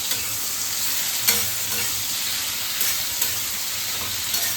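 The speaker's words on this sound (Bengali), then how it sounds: "চিংড়ি মাছটা ভাজার সময় একটু লঙ্কার গুঁড়ো দিয়ে দিলাম" Shrimp frying in oil with turmeric and chili powder for a mixed vegetable curry with eggplant, spinach and potato, giving a steady loud sizzle with a few stirring scrapes throughout.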